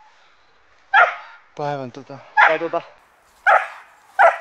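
A hunting dog barks in a few short, loud bursts during a deer hunt on the islands, with someone talking close by before and between the barks.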